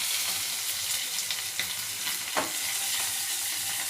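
A tempering of coriander and curry leaves with a pinch of asafoetida sizzles and crackles in a pan for a ridge gourd chutney. The frying is steady, with a few sharper pops, and no one speaks.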